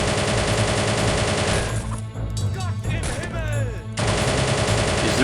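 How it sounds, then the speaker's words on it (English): An anti-tank gun fires amid a dense World War II battle in the game Soldiers: Heroes of World War 2, with heavy gunfire and explosions roaring continuously throughout, briefly thinning mid-clip before surging back. "That AT gun is firing at me as well."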